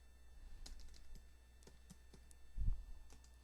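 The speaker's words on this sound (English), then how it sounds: "Now I'm going to type my title." Close, quiet typing on a computer keyboard as a title is entered in digital scrapbooking software, a steady patter of light key clicks with a heavier thump toward the end over faint room hum.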